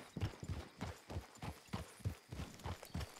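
Horse hooves clip-clop steadily in RedM, a Red Dead multiplayer game, as a horse travels cross-country: a regular walking rhythm of soft, fairly close thuds with no voices over them.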